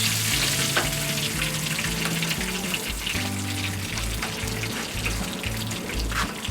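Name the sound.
bullfrog legs frying in a skillet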